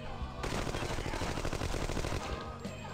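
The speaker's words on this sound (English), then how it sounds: "aren't Tommy guns supposed to be louder?" Rapid, sustained Tommy gun fire from the shooter game No One Lives Forever 2, a dense automatic burst lasting about two seconds at a fairly muted level.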